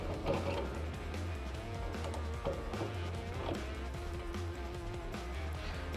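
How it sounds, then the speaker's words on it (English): A Coats wing nut is spun down and tightened onto a flange plate of a light truck conversion kit, giving a steady, close, continuous whirring and ratcheting mechanical noise with no speech. "simply install the wing nut like you normally would and go ahead and tighten it down"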